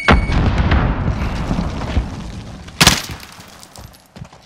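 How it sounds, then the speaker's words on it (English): A grenade detonates in Call of Duty: Warzone, a sharp broadband blast near the end that cuts through dense ongoing battle noise and rumble, with a smaller pop trailing after. "Grenade out!"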